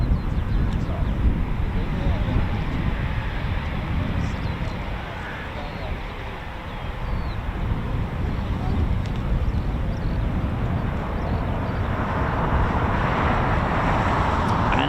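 A Eurofighter Typhoon FGR4 taxis at RAF Coningsby, its engines making a steady, broad roar and whine at a distance with wind buffeting the microphone, and the roar swells slightly toward the end.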